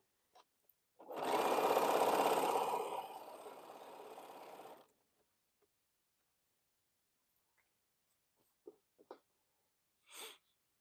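A home sewing machine stitches a Crown Royal quilt in one continuous run of about four seconds, loud and close, slowing toward the end, then silence broken by a few small clicks and taps.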